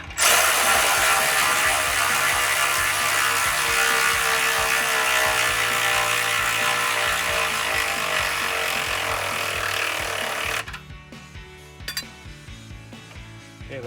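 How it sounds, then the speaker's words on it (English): Ratchet tightening bolts on the exhaust system of a 2019-2023 Ford Ranger: a fast, loud, continuous clicking run for about ten seconds, close up, then stopping and leaving a few faint metallic knocks. "Okay, that one I tightened all the way up"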